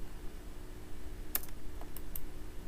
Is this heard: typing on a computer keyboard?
yes